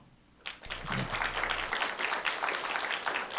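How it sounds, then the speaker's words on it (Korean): Applause from a church congregation at a Friday service: clapping breaks out suddenly and continues steadily, with a brief low sustained tone early on and some voices mixed in. "박수 한번 주세요"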